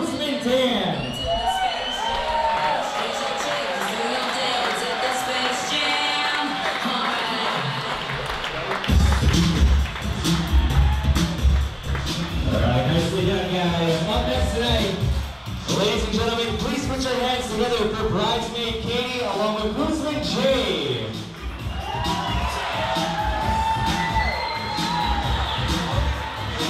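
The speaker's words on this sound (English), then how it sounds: "How about a big round of applause" Wedding guests in a reception room applaud and cheer as the wedding party makes its entrance, with sustained crowd noise, clapping, whoops and shouts over music that swells louder partway through.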